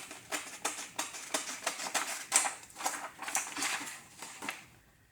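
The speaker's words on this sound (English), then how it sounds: "And then simply take your scissors to it." Scissors snip through paper in a quick run of about a dozen crisp, close cuts, fairly quiet, with no talking.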